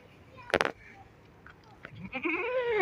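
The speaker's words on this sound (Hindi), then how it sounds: "दूध में ये अच्छी है बकरी।" A goat at a livestock market bleats loudly and close in a wavering cry at the end, after a sharp knock and some background noise.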